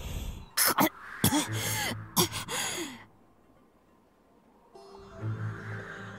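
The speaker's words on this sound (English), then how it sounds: "She barely had the strength to cough." A few faint, weak coughs and breathy gasps from a voice in a video game, with a sighing groan, followed by quiet low background music.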